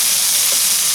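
Meat sizzling on a camp stove at a bivouac, a steady close hiss of frying that runs unbroken and fairly loud through the whole moment.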